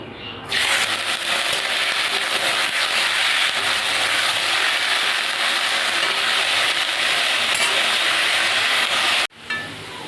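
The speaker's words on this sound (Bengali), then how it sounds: "আলুগুলো প্রথমে আমি ভেজে নেব।" Potatoes frying in hot oil in a wok (kadai), a loud, steady sizzle that holds evenly for about nine seconds, then cuts off abruptly near the end.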